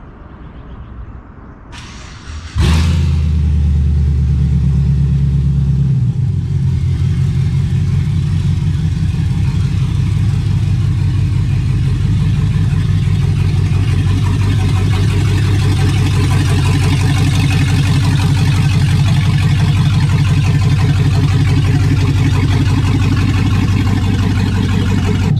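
An LS-swapped, air-bagged Chevy C10 truck engine starts with a sharp catch, then runs loud and steady, droning and rumbling close by as the truck drives.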